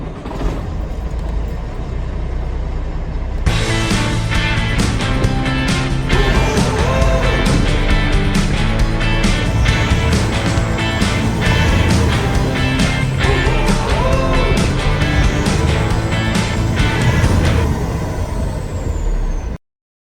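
A repaired engine runs steadily after a soft start, then a louder, rougher mechanical rumble with rattles and revving sets in, close and continuous before cutting off abruptly.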